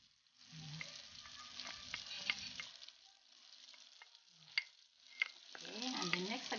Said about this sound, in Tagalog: So, we will put the garlic.